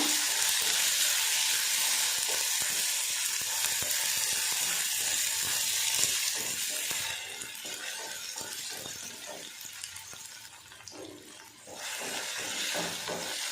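Guava leaves sautéing in a pan, giving a soft close sizzle with clicking and scraping stirs, loudest at first, easing midway, then rising again near the end.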